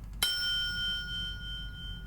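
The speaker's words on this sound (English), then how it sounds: "We finally get to ring the bell." A bell in The X-Files Game rings with one sharp strike, then leaves a clear, steady tone that hangs over a low background hum.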